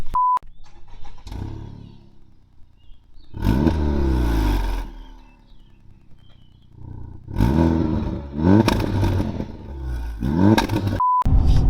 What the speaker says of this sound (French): on se retrouve actuellement à bord de cette Honda Civic Type R FK8 de 2018, équipée de son 2 litres turbo VTEC, donc le fameux K20